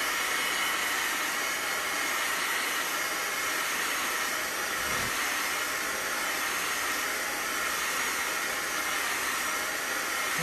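Hair dryer blowing steadily on a chalk transfer on a lemon-shaped board, a loud, continuous airy whir and hiss that holds unbroken throughout, with no talking.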